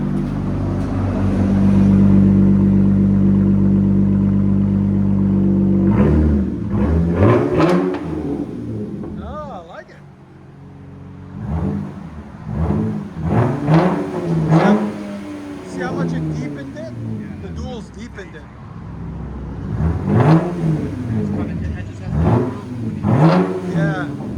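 A 2022 Ram 3.6L V6 fitted with an aftermarket muffler holds a steady low idle, then its engine note rises and falls through a series of sharp revs, loud and close, with brief pauses between bursts.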